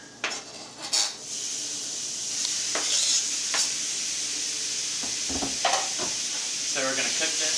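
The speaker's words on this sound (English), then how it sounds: "So we're going to cook this until it's browned all over" Beef stew meat browning in a pan after garlic, a steady hissing sizzle with a few sharp clinks of a utensil against the pan, close and moderately loud, no speech.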